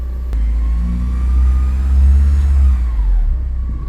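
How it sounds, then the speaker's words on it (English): A Porsche 944 engine idles steadily up close, a deep low hum that swells slightly as if lightly revved, then settles back, with no voices. "Engine sounds very happy."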